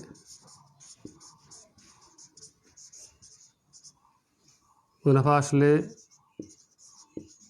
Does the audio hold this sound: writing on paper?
yes